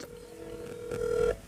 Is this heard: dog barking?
no